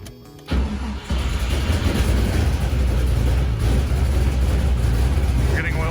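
An LS V8 swapped into a Mazda Miata cranks briefly, then catches and settles into a loud, steady, slightly rough idle, close by.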